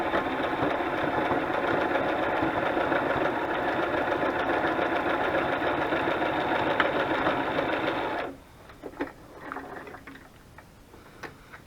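A sewing machine stitches burlap and lace for a decorative banner, a loud, steady mechanical whir running continuously for about eight seconds, then stopping, leaving a few quiet handling clicks.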